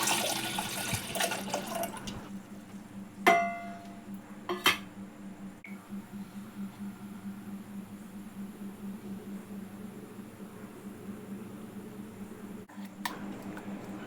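Thick tamarind pulp poured from a bowl into a cooking pot for spicy ginger and black pepper soup: faint wet trickling and pouring over quiet kitchen hum, with two sharp metallic clinks of utensil against vessel early on.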